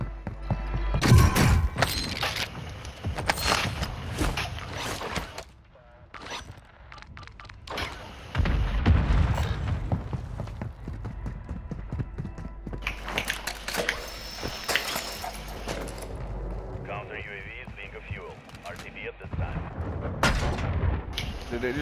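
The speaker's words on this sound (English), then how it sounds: "They dropped a cluster on us and some more." A cluster strike in Call of Duty: Modern Warfare II, with loud repeated explosions and gunfire in uneven bursts, close and heavy, a brief lull midway before more blasts, mixed with scattered voices.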